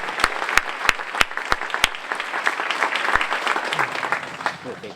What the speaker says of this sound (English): let's give a round of applause for our 8th graders playing some very challenging music.